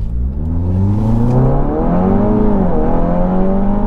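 A tuned 2.0 TFSI Stage 1.5 Audi TT engine pulls hard from a standstill, its note climbing steadily through the revs with a brief dip at a gear change, loud and close with no talk.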